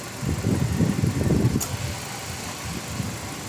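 A Toyota Avanza engine, noisy after a late oil change, idles in a low, uneven rumble up close, with a single sharp tick partway through before the sound settles and softens.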